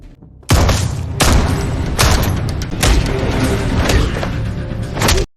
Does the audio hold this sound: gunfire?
yes